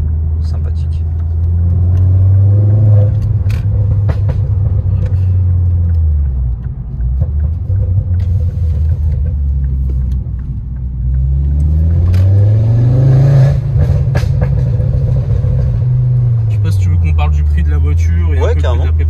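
A car engine revving hard in repeated sweeping rises and falls, loud and close, with crackling exhaust pops and backfires between the revs; people talk over it.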